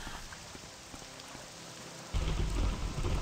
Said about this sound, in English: managed to catch it right in the middle of the lightning blast